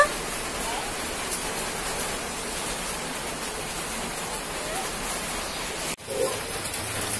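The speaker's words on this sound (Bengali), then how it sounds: "বাইরে তো মুষলধারে বৃষ্টি শুরু হয়েছে" Steady, heavy rainfall makes a dense, unbroken hiss throughout, with a brief dip near the end before the downpour resumes.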